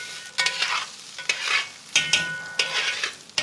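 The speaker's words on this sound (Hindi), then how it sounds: "चावल को हल्के हाथों से भूनना है, टूटेगा नहीं चावल" Long grain rice stir-fried in ghee for a Malabar chicken biryani, a close sizzle with repeated scraping stirs of a spoon through the grains in a quick uneven rhythm, no voices.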